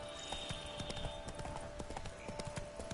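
Horse hooves clip-clop in a steady, quick trot in the video game The Witcher 3: Wild Hunt, close and clear over a faint ambient drone.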